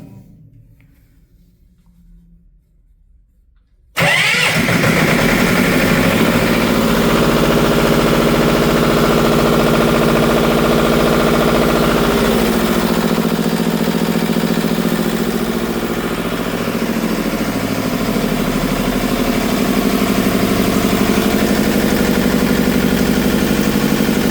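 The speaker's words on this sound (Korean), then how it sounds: "소방 제어반을 통해서 엔진 한번 돌려보겠습니다." Diesel fire pump engine at a middle school, fresh after starter motor and battery replacement, cranks and catches after a quiet pause, then runs at a loud, steady idle that continues throughout.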